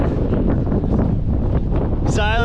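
Strong cold wind at Smugglers Bay, New Zealand, buffets the microphone in a loud, constant low roar, with a short rising whistle-like tone at the very end.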